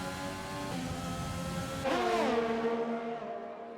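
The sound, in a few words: Ferrari race car engine, from an F1 racing video game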